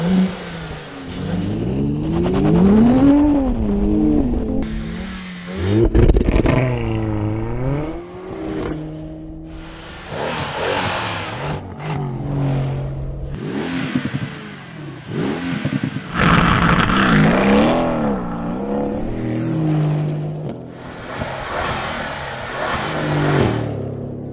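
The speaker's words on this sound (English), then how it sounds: "Time to compare the different AMG engine sounds." A powerful Mercedes-AMG engine revs hard several times, rising and falling in pitch, loud and close with a deep throaty roar.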